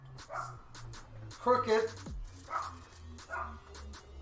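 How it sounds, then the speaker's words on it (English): A dog barks in the background during a home exercise stream, several short yapping barks and a whimper interleaved with someone talking close by. "Sorry about the dog barking in the background."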